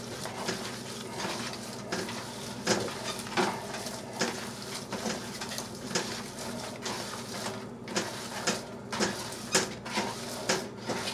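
Meat loaf mixture being worked by hand with added breadcrumbs in a bowl, giving a steady run of soft squelching and scraping with periodic sharper thumps and clicks, fairly close and continuous without talk.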